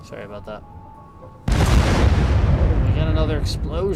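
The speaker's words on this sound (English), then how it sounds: "We got another explosion." An explosion goes off in the PC city-building game SimCity: a sudden loud blast partway through, then a sustained roar with rising chirpy tones over it, after a quieter stretch of game ambience.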